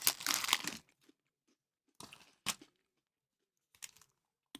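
Multigrain crisps eaten from a bag: a loud crunchy burst with bag crinkling, followed after a pause by a few shorter, fainter crunches.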